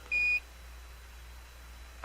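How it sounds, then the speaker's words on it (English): An Apollo 13 spacecraft master alarm sounds as one short, steady electronic tone lasting about a quarter second, clear over a low background hum, followed by a faint click. "We have a master alarm and a battery light."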